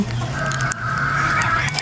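An authentic Mount Banahaw broodcock rooster in a breeding pen gives close, continuous clucking and throaty calls over a steady background.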